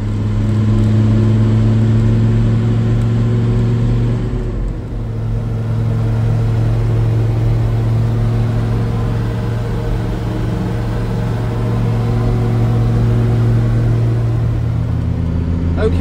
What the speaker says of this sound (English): So quick test drive should eliminate any problems with this.